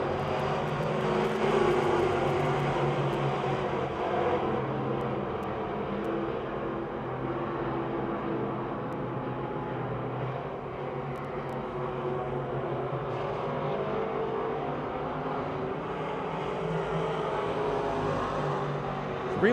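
Race cars roar continuously around Pittsburgh's Pennsylvania Motor Speedway oval track, a steady engine drone heard from a distance that swells and fades slightly as the pack moves through the turns.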